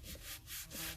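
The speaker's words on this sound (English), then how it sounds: "And then I'll give it a good rub." A hand rubs over a crafted floral skull piece with light, even pressure, giving close, soft, continuous scuffing strokes that swell and ease in a quick rhythm.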